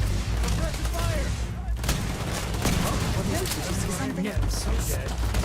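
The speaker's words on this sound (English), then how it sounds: "Suppressive fire!" Sustained suppressive gunfire in the sci-fi shooter Starfield, a dense continuous fusillade of rapid shots with battle noise throughout, close and loud, with brief voices mixed under it.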